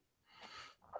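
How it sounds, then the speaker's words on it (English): A single sneeze from a man partway through a casual spoken conversation, with a short sharp burst of breath and a slight intake just before it, close to the mic and fairly loud. "Sorry, I gotta sneeze."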